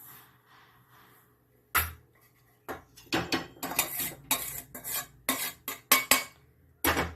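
Roasted semolina is scooped from a pan into a cup for kesari bath, giving a series of irregular close scrapes and metallic clinks of spoon against cookware, with short pauses between strokes.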